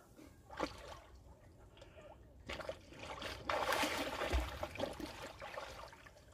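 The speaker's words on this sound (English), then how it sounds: "I'm going to dive down here and try to work at staying under the water" Swimmer in a neoprene wetsuit diving and splashing in open water, with soft trickling and sloshing water sounds, a few brief splashes and a louder burst of turbulent water midway.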